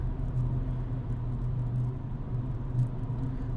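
A stock Audi S3 on the MQB platform runs on a dyno, producing a steady, loud, low engine drone with a constant rumble and no speech.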